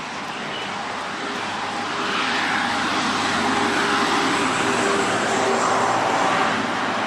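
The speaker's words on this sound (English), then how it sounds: "Another recycle truck going the other way this time." A recycling truck drives past on a neighbourhood road, its broad engine and tyre roar swelling and staying loud and close, with no voices.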